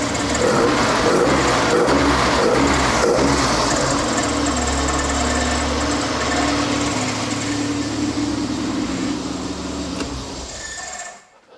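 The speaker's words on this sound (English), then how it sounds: "it literally just starts up with no accelerator, which is not bad for a car on carbs really" A Volkswagen Jetta Mk1 coupe with a carburetted 2.0 16V engine runs at idle, loud and close, with a steady mechanical churn that continues until it cuts off abruptly at the end.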